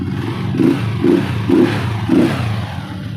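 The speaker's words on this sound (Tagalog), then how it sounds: "paandarin na lang natin. Okay. Yan na guys. Maandar na po si TMX 155." A Honda TMX 155 motorcycle engine runs after an oil seal replacement, its low, close rumble pulsing in four even throbs about half a second apart before settling.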